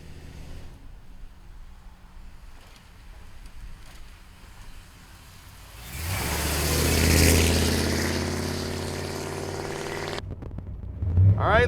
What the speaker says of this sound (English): All right, let's take our 48 Ford for a ride.